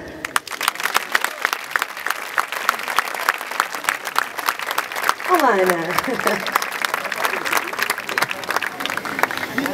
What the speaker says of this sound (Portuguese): Peço uma grande salva de palmas